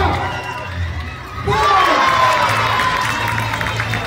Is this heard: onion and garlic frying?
no